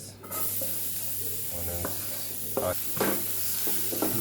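Onions and cumin fry in a pan with a constant close sizzle, broken by scrapes and taps of a spatula as they are stirred, and no one speaks.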